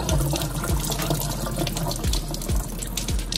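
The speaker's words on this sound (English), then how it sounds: "I'm just gonna start washing my rice." A kitchen tap runs as rice is washed, producing a steady, close gush of water splashing into a bowl or sink with no talking.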